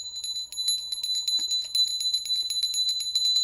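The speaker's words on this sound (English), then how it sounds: "One further thing, a little bell. Listen to the pitch." A small bell rings in repeated, evenly spaced strikes, its clear high tone ringing on between hits, close and moderately loud with no voices.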